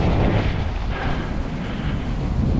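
Soft river ice on the Charles River cracks and crunches under a road bike's tires, a dense, steady grinding roar with no speech.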